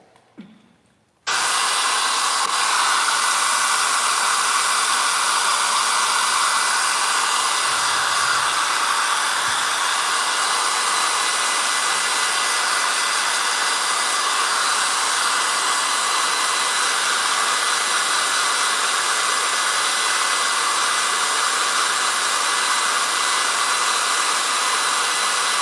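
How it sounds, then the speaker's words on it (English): Blow dryer running on a steady high setting for a long stretch after a brief quiet start, a loud continuous airy whir close by and unbroken. "Blow dryer."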